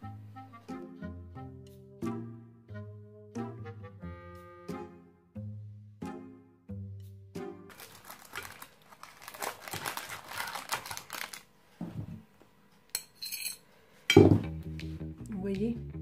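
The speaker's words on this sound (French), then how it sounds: "On va découper un petit morceau." A knife cuts a slice from a salmon tart, making a few seconds of crisp crunching and scraping of pastry after a stretch of soft background music.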